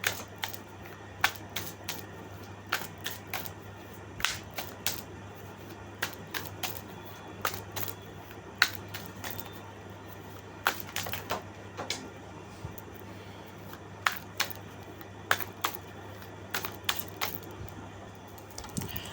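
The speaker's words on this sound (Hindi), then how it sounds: "मैं जब ये डेक को शफल कर रही थी" A deck of tarot cards is shuffled by hand, giving quick soft snaps and riffles that repeat in irregular clusters over a faint steady hum, close by and without speech.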